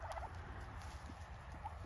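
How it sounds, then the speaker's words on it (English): Turkeys in a garden with chickens gobble faintly in the distance in a couple of quick warbling bursts over a low steady background hum. "So there are those big mouth turkeys you always hear."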